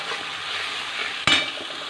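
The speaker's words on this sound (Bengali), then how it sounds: "মশলাটা অনেকটাই ভাজা ভাজা হয়ে গেছে" Ground cumin, coriander, chilli and turmeric fry in a pan for cashew chicken, giving a continuous close sizzle broken by one sharp metallic clink of a utensil partway through.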